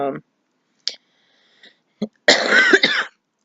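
A few scattered clicks and a short throat sound lead into one harsh, close cough; no words are spoken.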